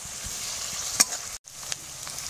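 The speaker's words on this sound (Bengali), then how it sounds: "এলাচ, লবঙ্গ আর ডালচিনি দিয়ে দিলাম। এবার নাড়ছি আমি।" Whole cardamom, cloves and cinnamon frying in a pan as a spoon stirs them, giving a steady close sizzle with one sharp scrape of the utensil partway through and a brief drop to near silence.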